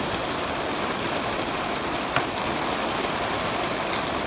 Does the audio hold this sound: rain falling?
yes